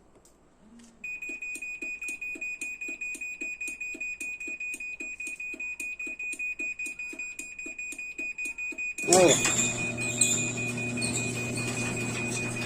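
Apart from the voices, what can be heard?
garage door opener warning beeping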